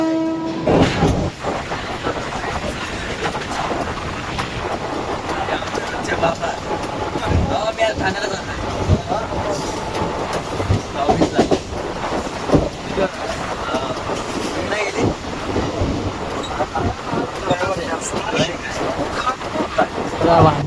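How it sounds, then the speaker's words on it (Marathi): An air-conditioned suburban train runs through Kurla station with a steady, loud rumble and rattling wheel clatter. Horn-like tones rise now and then, and voices mingle in the background throughout. "मी तो आता कुर्ला स्टेशनला आहे बघा ए सी ट्रेन आहे"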